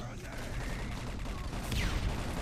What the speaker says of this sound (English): Nades are being tossed in. Rufio TK's RG left. Fenda is just tearing up with the Hyper Blaster there.